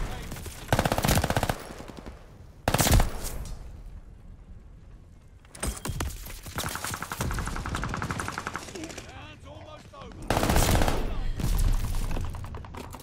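An Armaguerra 43 submachine gun fires in Call of Duty: Vanguard, several fast rattling bursts separated by short pauses, loud and close in a game mix with a voice talking in places.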